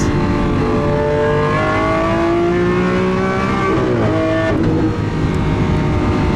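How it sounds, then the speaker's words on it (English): A V12 supercar engine heard from inside the car, a loud continuous roar with rising revs and sweeping pitch changes as the gears shift down, the exhaust crackling briefly mid-way. "There's one very angry V12 behind us."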